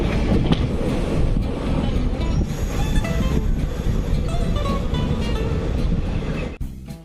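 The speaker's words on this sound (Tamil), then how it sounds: "வந்து ட்ரெயின் கண்டோன்மெண்ட்டை தாண்டி இருக்குது." KSR Bangalore to Kempegowda airport train rolling past Bangalore Cantonment: a steady, loud low rumble of the moving train with wind buffeting, continuous throughout and dropping away briefly near the end.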